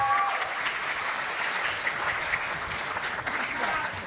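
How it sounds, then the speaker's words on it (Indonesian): Sustained audience applause at a political movement petition gathering, dense steady clapping filling the whole stretch, loud and near, with a few voices mixed in. "Kita berikan tepuk tangan bagi setiap yang ada"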